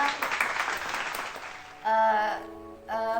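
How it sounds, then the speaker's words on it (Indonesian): Studio applause greets a guest on a COVID-19 podcast, a dense crackle of clapping that lasts under two seconds before giving way to a bright tonal music sting. "Tepuk tangan semuanya."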